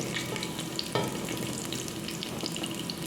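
Garlic and onion sauté in hot oil, a steady close crackling sizzle with a few sharper pops and stirring scrapes throughout, no voices.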